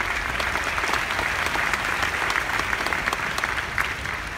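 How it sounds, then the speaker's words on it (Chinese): A large convention audience at a Nu Skin event applauds warmly and steadily, a dense, sustained wash of clapping that stays loud and even throughout with no voices on top. "再次把热烈掌声给到这所有的天使们"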